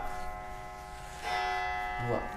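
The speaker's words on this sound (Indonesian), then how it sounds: "itu bunyi. Itu jam doang." A clock chiming inside a house, bright ringing bell tones with lingering tails sounding alongside people talking, a fresh strike entering partway through.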